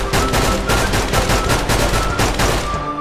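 Rapid automatic gunfire in a zombie game as a horde attacks a house: a loud, continuous rattle of evenly spaced shots that barely lets up across the whole stretch.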